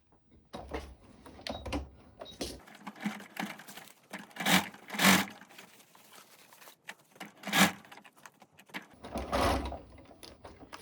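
Sewing machine running a regular stitch around the edge of a simple cotton sun dress, with a steady mechanical whir in short runs and bursts, stopping and restarting, with rustling fabric between stretches.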